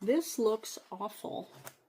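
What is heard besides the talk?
No everyday noises stand out.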